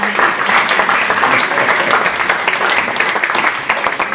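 Sustained applause from a conference audience for a speaker, dense continuous clapping at steady loudness throughout, with no pauses.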